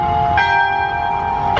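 A church bell strikes the hour, two close, loud metallic clangs with long ringing overtones that sustain between strikes.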